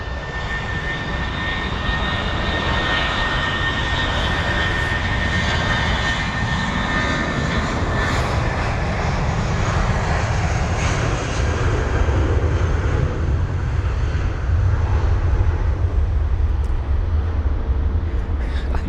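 Sri Lankan Airlines jet at London Heathrow, its engines giving a sustained loud roar and whine that deepens and swells toward the end, with no talk.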